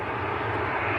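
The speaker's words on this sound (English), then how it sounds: "2 aircraft coming down our favourite taxiway here." Steady roar of aircraft engines at Manchester Airport as a Gulfstream and a Global business jet taxi, loud and continuous with a low rumble throughout.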